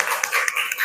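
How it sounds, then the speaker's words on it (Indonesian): A classroom of students claps hands together, a short burst of quick, close, slightly uneven claps with a few sharper individual hits. "Kasih tepuk tangannya ya."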